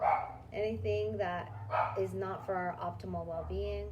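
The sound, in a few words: puppy dog barking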